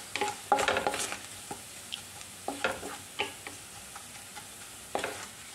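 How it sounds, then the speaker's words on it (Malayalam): Ginger and garlic sauté in a pan for a gooseberry pickle, giving a soft, steady sizzle broken by a few sharp scrapes and taps of a spoon stirring, close and fairly quiet. "അല്പസമയം കൂടി ഒന്ന് വഴറ്റിയെടുക്കാം"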